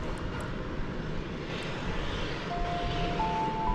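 A Delta Airbus A220 jet departing DFW Airport at night, bound for Minneapolis–St. Paul, gives a steady broadband engine roar, moderately loud and unbroken, with a thin high whine rising near the end.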